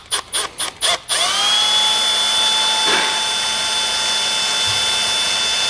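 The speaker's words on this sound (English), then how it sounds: "What I like to do is use a step bit. That way I can go small and go up a little bit more if I need to" A step drill bit cuts a hole in a 2021 Chevrolet: a few short loud bursts of the drill, then a sustained high whine as it bores steadily through, close and alone.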